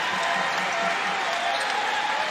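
Steady roar of a college basketball arena crowd at a Wichita State versus Clemson NIT game, dense applause and cheering filling the space continuously, loud and unbroken, with no clear voice standing out above it.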